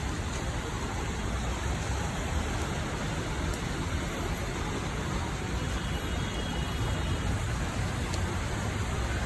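Heavy rain pours during a thunderstorm in Kyiv, a dense, constant hiss that stays even and unbroken throughout.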